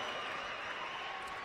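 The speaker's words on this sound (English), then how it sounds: "Let's have a round of applause" A crowd at a college men's basketball senior day ceremony applauds in a steady, dense wash of clapping, heard from a distance and fairly faint.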